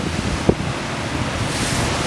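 Strong wind buffets the microphone on an ocean beach at Anglet, with steady roaring surf beneath it and one brief bump partway through. No one speaks.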